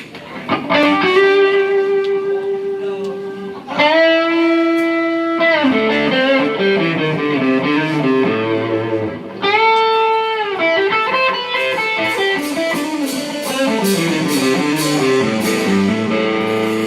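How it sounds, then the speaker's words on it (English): Electric guitar through a distortion effect, played live by a trio at an inn, ringing sustained chords and riffs loudly and continuously with no voices. "crank it up. Put on this distortion."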